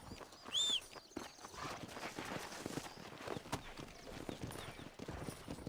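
Horse hooves clip-clop at a steady walking rhythm in Red Dead Redemption, set in Mexico, moderately close, with a brief high whistle-like sound early on and faint background ambience.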